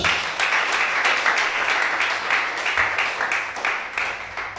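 A church congregation at a 2020 worship service in Gabon bursts into sustained applause, a dense, loud wash of clapping that carries on steadily throughout with no pause.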